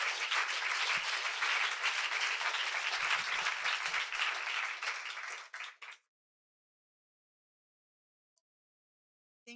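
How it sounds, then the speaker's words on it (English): Audience applause welcoming a speaker at a university talk on race and faith, a dense burst of many hands that fills the hall for about five seconds, then thins and stops abruptly, leaving near silence. "So let's welcome Lisa with a round of applause"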